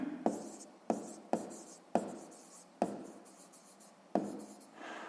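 A pen writes a fraction on paper during a sixth-grade maths exercise: soft scratchy strokes with small taps in short bursts, quiet and close, with no voices.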